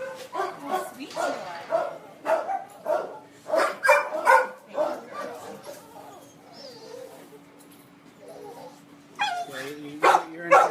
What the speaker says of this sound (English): Look how sweet this dog is.